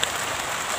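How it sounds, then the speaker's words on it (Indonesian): Steady outdoor rainfall beside a rice field makes an even, moderately loud hiss with no voices. "Hujan."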